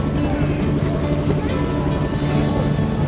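A boat moves along a river toward a silk cotton tree garden in light drizzle, with a loud, steady engine drone and lapping water close by throughout.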